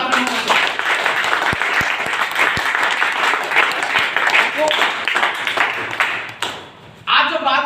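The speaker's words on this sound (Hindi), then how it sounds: "एक बार जोरदार ताली" Loud, sustained applause from an audience at a direct-selling company event in Odisha, India, dense clapping with a few sharp individual claps, fading near the end before a voice begins speaking.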